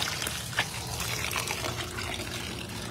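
Tap water runs steadily in an outdoor kitchen setting as a fern-shoot dish is prepared, a continuous broadband splashing gush with one brief louder splash near the start.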